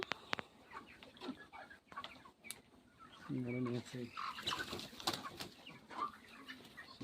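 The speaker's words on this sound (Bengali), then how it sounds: "এতো বড় বড় মুরগিগুলো মারা যাচ্ছে" Chickens on a poultry farm, with a few brief clucks and calls amid rustling, faint and mixed with quiet background voices.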